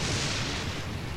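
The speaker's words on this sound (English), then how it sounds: "Lightning." A lightning strike cracks in Genshin Impact during a stormy story quest, a loud broad burst of noise that fills the short moment without any talk.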